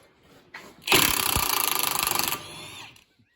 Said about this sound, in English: here you go, Greg, put that impact on there and remove that side.